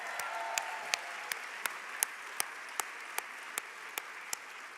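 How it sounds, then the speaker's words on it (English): A crowd at a Heroes & History Makers celebration applauds steadily for Savannah Guthrie, a dense wash of clapping with sharp, evenly spaced claps standing out in a regular rhythm. "Let's hear it for Savannah Guthrie again"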